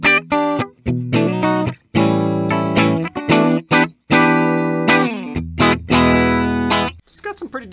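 Epiphone Joe Bonamassa signature SG Custom electric guitar on the middle pickup position, played clean through effects: a loud run of strummed chords and picked phrases with short pauses, ringing alone without any talk.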